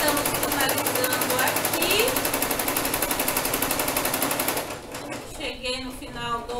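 A sewing machine backstitches a men's dress necktie, its fast, even needle chatter running loud and close for several seconds before it stops, leaving quieter handling noise behind.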